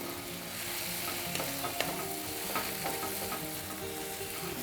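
Soybeans fry in hot oil in a pan with mutton fat and chickpea dal, a loud, even sizzle throughout, broken by scraping clatters as a spatula stirs them, close with no talk.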